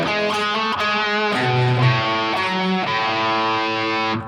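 A distorted electric guitar plays a riff, a few sustained chords and single notes ringing out clearly and loudly with no talking.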